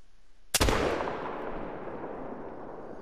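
A single sharp rifle shot at a level 3 bull moose in a hunting video game, a loud crack followed by a long rolling echo that fades away.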